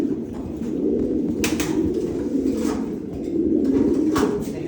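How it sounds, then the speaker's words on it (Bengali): A white pigeon coos loudly and close by in a low, continuous rolling murmur, with a few brief scuffles or wing sounds mixed in and no talk. "এটা একটা হোয়াইট কবুতর"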